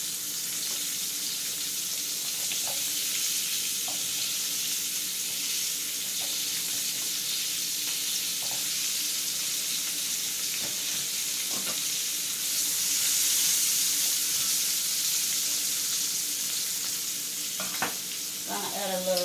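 Beef stew vegetables sizzle steadily in a pot, a constant close frying hiss with occasional faint clicks and stirring knocks, no talking.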